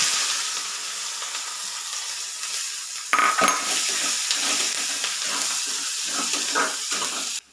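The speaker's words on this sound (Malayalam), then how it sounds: "ഇനി ഇതിലേക്ക് 2 സവാള അരിഞ്ഞത് കൂടെ ഇട്ട് കൊടുക്കാം" Hot oil with cumin and fennel seeds hisses steadily in a pan. Two chopped onions then drop in with a louder burst of sizzling, and scraping stirs follow under the crackle until it cuts off at the end.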